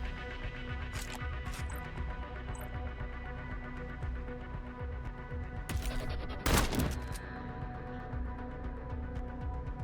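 Exchange of gunfire in the video game Cyber Knights Flashpoint: a steady rattle of shots runs throughout, with sharper bursts near the middle and one loud burst late on.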